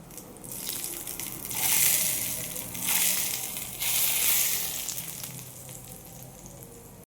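Dry red chillies, mustard seeds and cumin tempering poured over chutney, sizzling and crackling loudly and steadily close by, with two or three surges in intensity as the hot oil hits.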